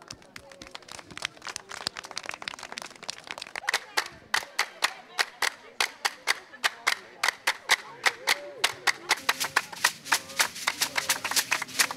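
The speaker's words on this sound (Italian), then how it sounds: "Applauso!" Festival audience clapping outdoors, beginning as scattered claps and building into steadier, sharper applause with distinct individual hand claps, while a voice talks faintly underneath.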